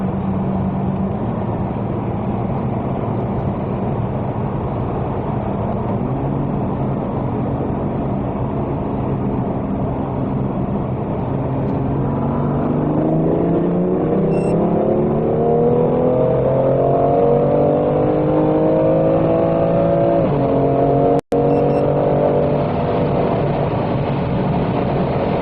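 BMW M2 Competition Manhart accelerating hard on a speed run, its engine note climbing steadily through the gears with rising pitch and brief shifts, loud and continuous from inside or close to the car, no talk.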